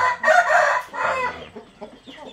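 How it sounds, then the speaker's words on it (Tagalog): Close and loud, a caged Rhode Island rooster crows once, its call breaking into rough trailing notes at the end. "Then ayan yung ating isang rooster."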